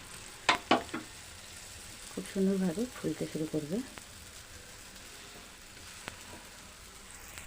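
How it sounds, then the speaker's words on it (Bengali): A pea-stuffed paratha fries in oil in a pan with a faint, steady sizzle, while someone talks briefly over it and a few soft clatters sound near the start. "তেলটা দিয়ে আমি একটু এইভাবে চারদিকে নাড়িয়ে চাড়িয়ে নিচ্ছি তারপরে এটাকে আমি আবারও পাল্টে দিচ্ছি"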